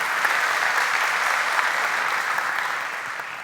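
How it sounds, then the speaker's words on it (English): An audience at a Spring software conference talk in Portugal claps steadily, a dense, even wash of applause that holds for a few seconds and then begins to taper off. "If that's the best applause I get"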